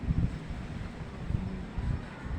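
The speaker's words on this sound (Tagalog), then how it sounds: "Mahangin siya, oh. Ang hangin-hangin." Gusty wind buffets the microphone on a balcony in low, uneven rumbling bursts, with no voices present.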